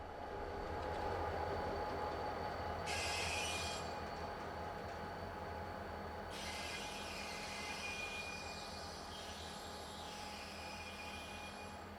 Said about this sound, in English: KCS 2033 is an EMD GP38-2 locomotive that was built in May of 1977.